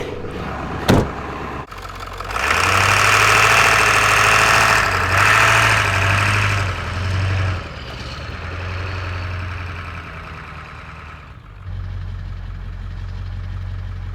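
A truck buried in about two feet of snow cranks after a sharp click and fires up, then idles loudly and steadily with revs swelling and settling, close by and without talk.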